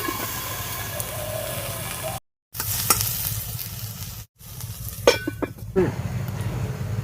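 Chopped eggplant sizzles and hisses in a hot pan, with clattering stirring strokes near the end and two brief cuts to silence along the way.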